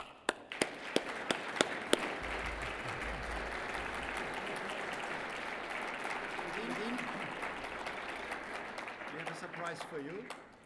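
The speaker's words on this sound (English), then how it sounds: "please give us a round of applause" Sustained audience applause fills a lecture hall for the first inaugural Regine Kapeller-Adler lecturer, opening with a few sharp separate claps before a dense, steady clapping that holds for about ten seconds and then tapers.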